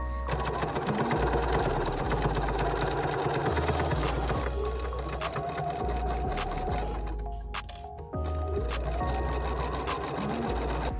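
A sewing machine stitches the short end of a bucket hat at a quarter-inch seam, a steady close whirring with rapid needle rhythm that briefly slows and pauses before running again, with no voices.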